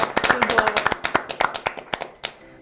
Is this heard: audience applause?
yes